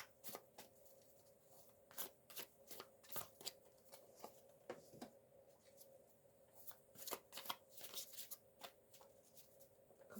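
Tarot and oracle cards, including a Citadel oracle deck, are shuffled by hand in quick riffling bursts with short pauses, close and soft against a quiet room.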